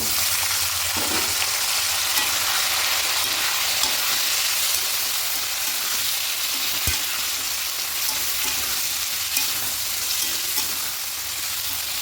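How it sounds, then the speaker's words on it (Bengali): Cut mixed vegetables frying with onion in a pan for lentil dal, a continuous close sizzle with occasional knocks and scrapes of stirring, loud and steady, no one speaking. "সবজিগুলো চাড়া করে একটু হালকা করে ভেজে দেবো"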